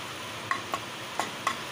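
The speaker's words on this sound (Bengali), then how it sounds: "এই যে পেঁয়াজটাকে একটু ভেজে নেব" Onions fry in a pan with a soft continuous sizzle broken by a few sharp clicks of a spoon against the pan, close and quiet, no voices.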